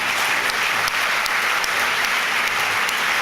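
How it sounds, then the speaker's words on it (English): Sustained audience applause at an evening public event on the extinction emergency, a thick, even wash of clapping from a large crowd that continues without pause. "Please, round of applause for Rob"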